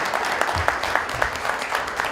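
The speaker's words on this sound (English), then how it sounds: "Let's give them all a big round of applause." Audience applause at an AHEPA chapter gathering in New Rochelle, heard as a short run of fairly sparse, distinct claps at moderate loudness without talking over them.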